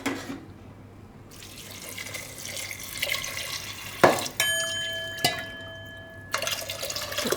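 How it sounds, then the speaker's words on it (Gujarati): Water is poured into a pot of dal with raw mango pieces for boiling, a close splashing, trickling stream with a few sharp clinks of a vessel between pours. "આ રીતે આપણે પાણી નાખી દેવું"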